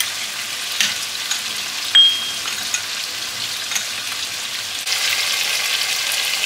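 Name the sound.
cornflour and soy sauce water added to frying fish pan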